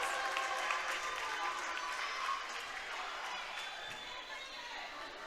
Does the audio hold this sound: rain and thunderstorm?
no